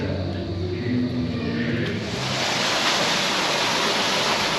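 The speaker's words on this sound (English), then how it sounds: "Man-made swimming pools and waterfalls." Broad, steady rushing of water from a man-made waterfall at a resort pool, a loud continuous wash that thickens and grows denser partway through, with no talking.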